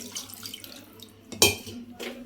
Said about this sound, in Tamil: இப்போ வந்து இன்னும் கொஞ்சம் தண்ணி மட்டும் ஊற்றிக்கலாம்